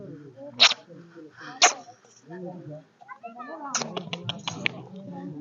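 A dog in Kashmir gives several sharp, loud barks in short bursts, mixed with people talking nearby in a lively outdoor setting.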